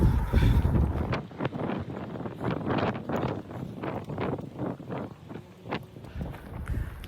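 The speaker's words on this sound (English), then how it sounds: "It's really windy today." Strong gusts buffet the microphone during an outdoor run, a loud, continuous roar with rushing surges and rumbling low buffeting that rises and falls throughout, no voice heard.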